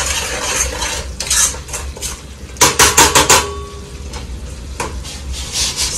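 Chicken pickle is mixed by hand in a bowl nearby, with wet squelching stirs and scraping, plus a quick run of sharp clinks against the bowl partway through.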